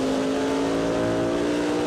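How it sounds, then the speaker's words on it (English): NASCAR stock cars racing at Richmond in 1996, with Mark Martin and Ricky Craven running together for fourth: a loud, continuous engine roar with steady high-revving tones, close and unbroken, with no voices. "Mark Martin and Ricky Craven are running together on the racetrack for fourth."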